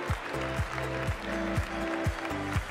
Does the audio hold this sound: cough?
no